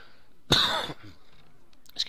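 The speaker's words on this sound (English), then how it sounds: "Excuse me for coughing." A single sharp cough close to the microphone, short and breathy, followed by quiet room sound and a faint small noise.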